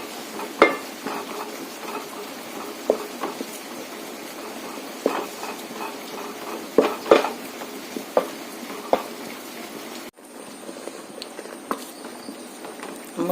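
A spatula works thick jackfruit halwa (chakka varattu) with ghee in a pan, giving irregular scraping and knocking strokes over a soft, steady sizzle, close and moderately loud, with no voices.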